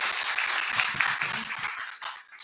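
Audience applause after a presentation at an automotive event, a dense, moderately loud wash of many hands clapping at once that thins out near the end.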